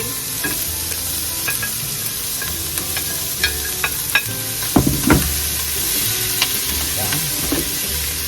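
Vegetables sizzle steadily in a hot pan while a utensil stirs them in scattered scrapes and clinks, close and prominent, with no voices.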